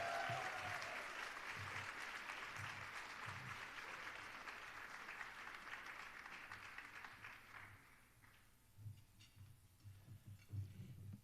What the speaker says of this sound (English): a big round of applause for our Cook County Board President, Tony Preckwinkle.